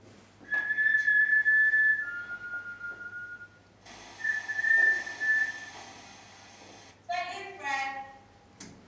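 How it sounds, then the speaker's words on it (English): A high, thin whistle sounds inside a church in a few sustained tones with short pauses, faint and boosted so background hiss rises with it. "that second part of the whistle"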